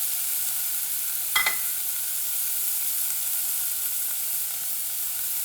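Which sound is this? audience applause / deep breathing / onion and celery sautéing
onion and celery sautéing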